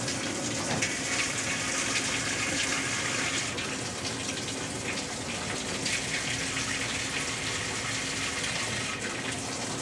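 Cold water pours into a Whirlpool washing machine, a loud, constant rushing gush that stays steady throughout with no talking.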